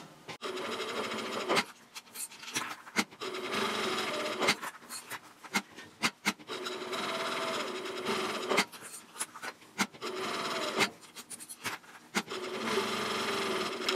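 A sewing machine stitching around a minimalist ID wallet, with steady whirring runs broken by brief stops and backstitch bursts. It sounds close and continuous, and no one talks.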